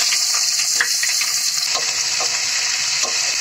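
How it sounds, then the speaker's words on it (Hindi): Onions sizzle steadily in a hot pan, with occasional scrapes and clicks from stirring; close and continuous, no voices. "प्याज को हम अच्छा सुनहरा होने तक भूनेंगे।"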